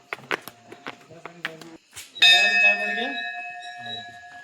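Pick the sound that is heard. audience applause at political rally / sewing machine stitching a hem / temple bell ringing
temple bell ringing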